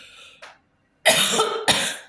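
Two harsh, forceful coughs close to the mic, the second following quickly after the first, with a faint murmur beforehand and no speech.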